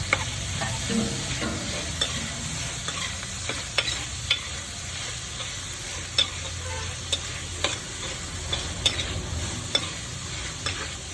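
Tomato and green chillies go into a hot frying pan for prawn and onion theeyal, sizzling steadily under repeated stirring clicks and scrapes of a spoon against the pan.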